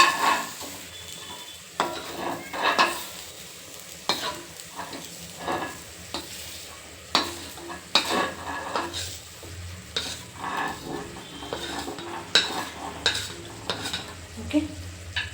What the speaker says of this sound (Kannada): ಇದು ಹಗಲಕಾಯಿ ಫ್ರೈ ಆಗ್ತಿದೆ